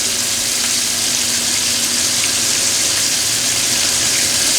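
Food searing in a hot pan, a loud, constant broadband sizzle filling the whole stretch with steady intensity and no talk.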